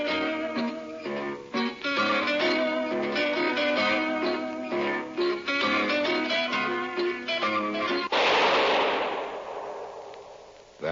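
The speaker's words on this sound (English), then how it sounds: "That was the shot that killed Harry Lime" A single sharp gunshot sound effect in a radio drama cuts in after a stretch of zither music, followed by a bright, noisy decay.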